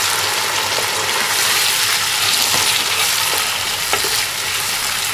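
Tomatoes and masala stirred in a hot pan make a loud, dense hiss of frying that runs throughout, with faint scraping strokes of the spoon, close up and without speech.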